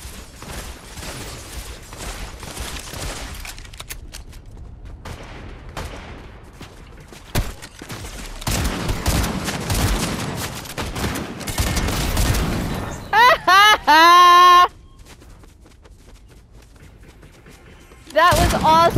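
Gunfire in the Fortnite video game, with sniper rifle shots among repeated sharp bursts and booms, while people talk over the action throughout, followed by louder tonal game effects near the end.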